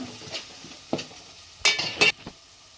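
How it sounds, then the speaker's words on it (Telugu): Fish curry with curry leaves is stirred in a pan, giving a few scattered scraping and clinking strokes of a spoon against the metal pan, close by and with no voice over them. "కరివేపాకు వేసుకోవాలి మంచిగా కలుపుకోవాలి చూడండి ఎలా కలుపుతున్నామో"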